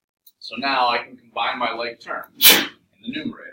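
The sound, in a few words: sneeze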